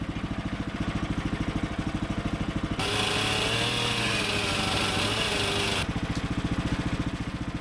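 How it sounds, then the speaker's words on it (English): A chainsaw idles with a rapid putter, revs up to a loud, rough whine for about three seconds while carving an 18-foot wooden beam, then drops back to idle. "Just a little light chainsaw carving."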